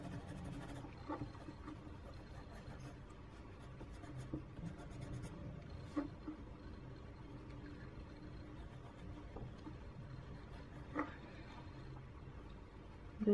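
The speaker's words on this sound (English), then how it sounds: "just burnish the darker area here" A Prismacolor colored pencil burnishes paper with soft, continuous scratchy rubbing in close, quiet strokes, with a few faint bumps and no voices.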